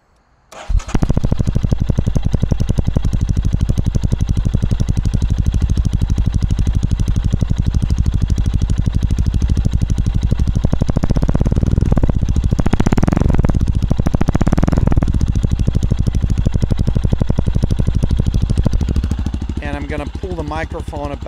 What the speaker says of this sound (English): and we'll start the bike.